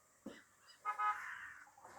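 A single drawn-out electronic car horn honk in the video game Toem, fairly loud, preceded by a brief thump, with no talking.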